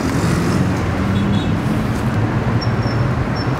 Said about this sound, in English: Traffic for days